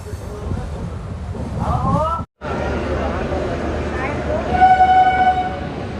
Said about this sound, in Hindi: हमारी विक्रमशिला एक्सप्रेस पहुंच चुकी है अपनी तीसरी स्टॉप जमालपुर जंक्शन